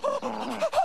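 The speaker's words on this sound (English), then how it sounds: "You're such a smart dog." A dog vocalizes in short bursts, with whimpering, panting sounds, heard close and fairly loud in a TV commercial setting.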